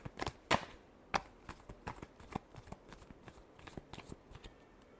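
Tarot cards being shuffled by hand, a quiet, close riffling and snapping of cards in quick irregular bursts with no talking over it.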